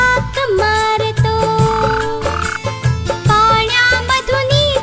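A frog croaks within a Marathi children's song about playing in the rain, the croaks recurring rhythmically amid steady sung melody and beat-driven music.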